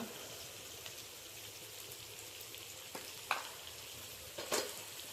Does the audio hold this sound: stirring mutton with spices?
yes